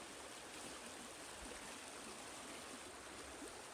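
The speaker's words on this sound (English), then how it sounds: "So this here's the Mississippi River in all its glory." The Mississippi River headwaters, a small creek-like stream flowing out of Lake Itasca, make a soft, steady rushing wash that sounds faint and continuous, with no talk.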